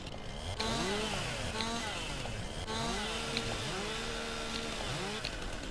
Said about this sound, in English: it's been so long since I've used a chainsaw